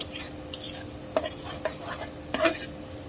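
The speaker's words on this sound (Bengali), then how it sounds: "পেঁয়াজটা একটু বেজে নিব" Onion stirred in a pan as it starts to fry, with a spoon scraping and clinking against the metal in several distinct strokes over a soft background.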